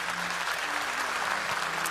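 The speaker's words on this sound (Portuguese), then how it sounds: "Vamos aplaudir ao Senhor poderoso" Sustained applause from a church congregation during worship, dense and steady clapping throughout, fairly loud and close.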